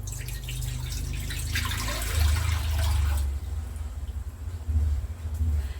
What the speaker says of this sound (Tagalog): umpisa po, naglalagay na ako ng tubig